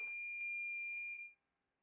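A multimeter beeps steadily during a continuity test on a 2006 Moomba Outback Indmar MEFI 5 ECM with its leads touched together, one clear tone held for about a second and a quarter before cutting off.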